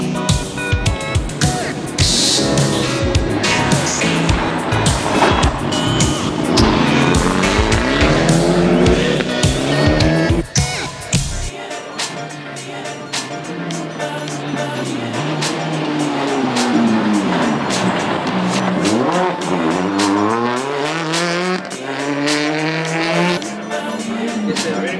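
Rally cars race at the Rallye Ciudad de Pozoblanco, engines screaming loud and close with rapid gear changes, rising and falling revs, tire squeal and skidding, one car roaring past, all over music through the first half.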